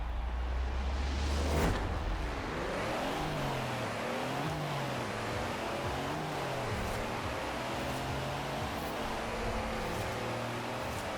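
A massive custom truck's engine revs hard in a Forza Horizon 4 drag race, with loud sustained roar and repeated rising pitch sweeps as it climbs through the gears and bounces off the limiter, close and continuous.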